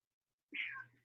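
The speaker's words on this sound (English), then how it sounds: "my cat's asking to get out of the door, and she's very loud" A house cat meows loudly near a door, wanting to be let outside; one drawn-out, fairly close call lasting about half a second, alone with no talk.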